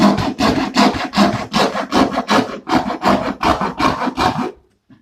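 Hand saw cutting through light, easy material in about a dozen quick, rhythmic back-and-forth strokes, loud and close, ending in a brief silence.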